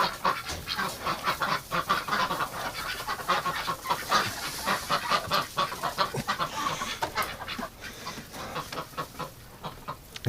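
Ducks on a winter night, a loud, busy flock quacking and honking close by in rapid overlapping calls that run without a break.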